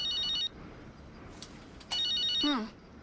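An electronic phone ringtone chirps in two short bursts of high repeating tones separated by a quiet gap, close and clear, with a brief voice at the end.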